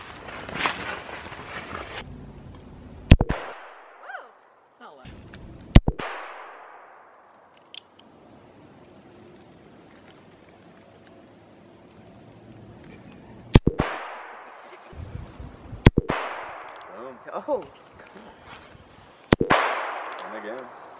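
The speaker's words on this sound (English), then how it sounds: "I missed all my shots." Guns fire at outdoor targets: several sharp, loud single shots spaced several seconds apart, each ringing off into a long echoing decay, with people talking faintly between them.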